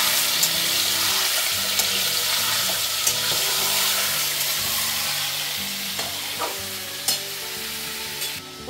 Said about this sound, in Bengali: প্রথমে ঘি দিয়ে তেল দিয়ে কেন আমি মাংসটা ভাজলাম তোমরা বুঝতেই পারছো।